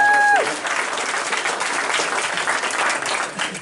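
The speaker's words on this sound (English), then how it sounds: "So give us a round of applause." A round of audience applause at a climate change forum, steady crowd clapping that starts right after a brief tone and continues at an even level throughout, with no voices over it.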